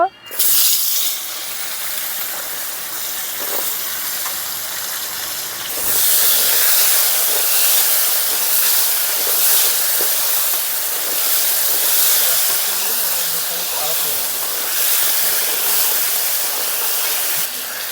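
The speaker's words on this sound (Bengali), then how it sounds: "এখন মাছ ভাজা তেলের মধ্যে আলুগুলো দিয়ে ভেজে নেব।" Potatoes dropped into hot oil left from frying hilish fish give a loud, steady hissing sizzle that swells sharply partway through and stays dense and close, with faint bits of background noise beneath.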